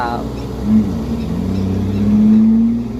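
A car engine revs hard and high on a steep hillside road in the Thai countryside, holding a strained, rising drone close by while someone speaks over it.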